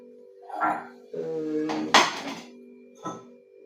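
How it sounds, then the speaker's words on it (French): Dishes, pots and cutlery clink and clatter during home dishwashing, with several ringing metallic knocks, a longer scraping rattle and a sharp clang near the middle, then one final clink, all close by. "Faire la vaisselle."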